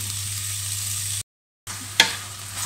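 Shrimp and garlic sizzle steadily in a hot pan, a continuous loud frying hiss broken by a brief cut and one sharp clink of utensil on the pan.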